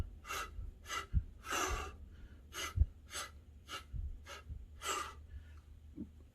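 Rhythmic breathing during capoeira conditioning, with about nine sharp, forceful breaths in close succession, some with soft low thuds, heard alone.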